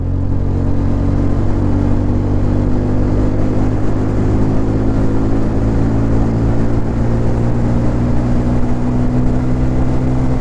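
TVS Apache RTR 160 4V motorcycle with air and oil cooled engine, riding in rain mode, accelerates through its gears with a loud, continuous engine drone and strong wind rush, no voices heard.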